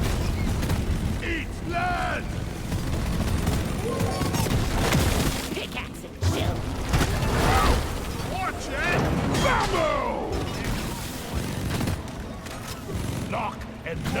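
Gunner-class gunfire in a co-op deep dive mining video game, dense bursts of shooting mixed with game effects and voice callouts, with a commentator talking over much of it.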